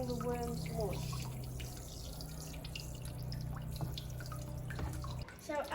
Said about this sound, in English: there's a lot of worm tea dripping out